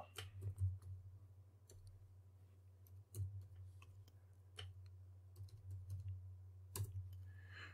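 Scattered keystrokes on a computer keyboard, quiet and close, in irregular clicks and short bursts over a low steady hum, with no talking.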